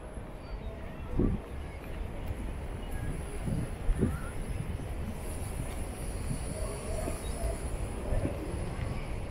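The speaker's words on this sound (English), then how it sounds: "vintage tram there" A vintage tram rumbles past on Blackpool seafront with low, steady rail noise and occasional clunks, set against outdoor ambience and a faint voice.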